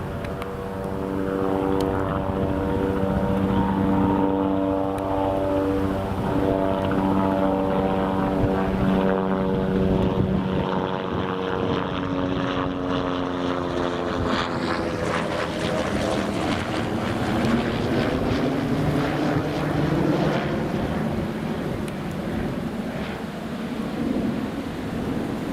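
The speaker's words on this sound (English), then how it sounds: "There's the Sun Express, just on final approach." Sun Express airliner on final approach to Newcastle Airport, a loud steady engine drone with whining tones that slowly shift in pitch as it passes, heard from nearby outdoors with no talking.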